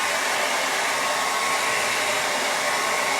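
A hair dryer blows on freshly stenciled paint, giving a steady, loud, continuous whooshing whir that holds even throughout with no pauses and no other sounds.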